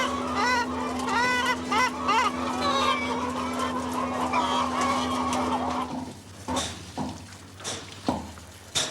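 Chickens clucking and squawking nearby outdoors, busy overlapping calls with a steady hum underneath, then thinning out to a few scattered clucks and knocks.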